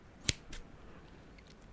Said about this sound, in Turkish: Bu makasın sesi harika.